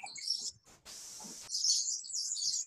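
A squeaking electric fan in need of oil gives faint, high-pitched chirping squeals in short repeating bursts, broken by a brief hissy pause, audible with no voices over it.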